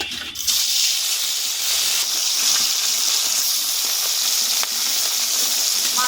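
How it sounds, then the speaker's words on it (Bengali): Bata fish frying in hot oil in a wok, a steady loud sizzle that holds without break throughout, close and alone with no talk. "কড়া গরম হয়ে গেছে, এবার মাছ দেব।"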